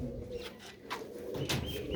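Pigeons cooing softly at a loft, a few low murmuring coos over a busy background hum, faint and somewhat masked.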